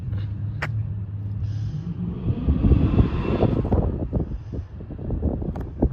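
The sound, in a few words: Chevy Caprice engine running, carburetor being tuned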